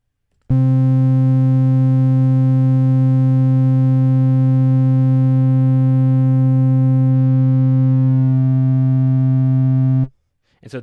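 A Bitwig Studio polysynth fed through distortion holds one loud, steady, buzzy harmonic tone for nearly ten seconds, its upper overtones shifting slightly before it cuts off abruptly.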